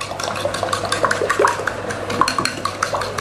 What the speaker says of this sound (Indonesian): Kocok hingga ringan seperti ini.